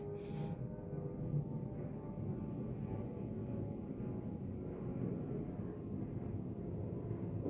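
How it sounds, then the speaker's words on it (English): A low, steady rumble of an airplane passing overhead, fairly faint and continuous throughout, with no voices. "An airplane just went overhead"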